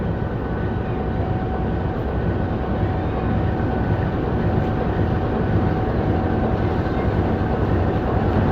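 Pakistani GEU 4552 diesel locomotive heading the Jaffar Express at a railway station, a steady loud low engine rumble with a faint whine holding throughout, broad rail noise unbroken and no voices.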